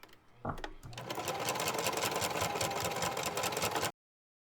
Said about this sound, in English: when you're sewing the pleats down, you're not sewing across the mask, you're just sewing the edge again